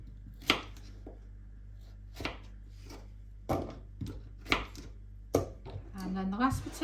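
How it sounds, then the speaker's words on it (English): A knife quarters potatoes on a cutting board, giving sharp, separate chops at an uneven pace, close and clear, with a voice speaking briefly near the end. "So we're quartering the potatoes and then the bigger ones into more pieces."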